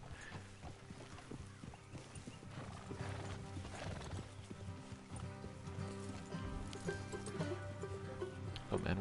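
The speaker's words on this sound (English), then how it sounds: "Oh man, watch out for the horse." Horse hooves clip-clop in a steady rhythm with neighing in the Red Dead Redemption video game, faint and muffled under a dense bed of game ambience and background noise.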